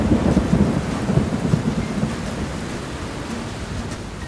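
Thunder rumbles deep and heavy through a thunderstorm with steady rain, loudest at the start and then fading into a lingering low roll under the continuous hiss of rainfall, with no voices.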